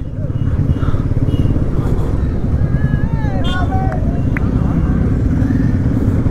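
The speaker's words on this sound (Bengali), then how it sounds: "এই দিকে দেখো বাইকের র্যালি।" Motorcycles in a bike rally on a road in Assam rumble steadily and loudly close by, the engine drone continuous under gusty wind noise, with a voice speaking over it.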